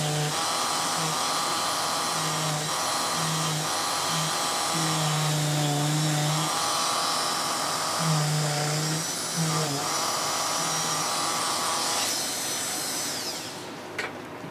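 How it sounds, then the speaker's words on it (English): A bullet-tip Dremel rotary tool seams a latex mask with a continuous high-pitched whine that rises and dips in pitch as it bears on the material, close and steady throughout, and fades out at the very end. "Like that area was a good spot to have the bullet tip Dremel."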